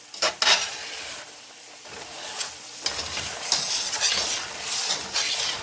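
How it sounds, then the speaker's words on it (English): Candied nuts being stirred in a pan while cooking: steady scraping and gritty rustling of a utensil through the sugar-coated nuts, with a few clinks against the pan and no voices. "You can just keep stirring and stirring and stirring, and keep it from sticking pretty much."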